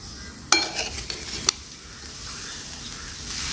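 Grated fresh coconut and sugar being stirred in a pan for coconut vadi. Two sharp scrapes of the spoon stand out, followed by a soft, continuous rustling stir.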